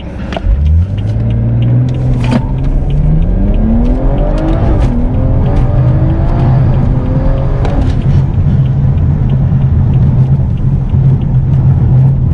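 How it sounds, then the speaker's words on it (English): A tuned BMW 340i launches hard on a road test, its engine rumbling at idle before revving up in rising pulls through gear changes, tires squealing briefly, then settling into a loud steady drone close by. "We're gonna try to launch the car"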